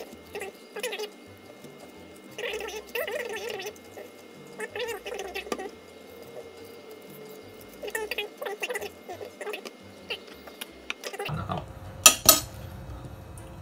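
A spoon scrapes seeds and pulp out of a cut Japanese pumpkin in short, soft scooping strokes that come in scattered bursts, ending in a sharper clatter of the spoon.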